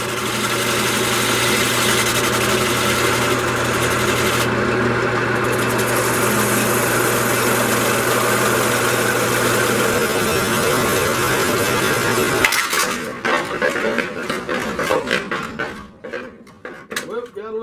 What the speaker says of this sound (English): Start scraping that down right there.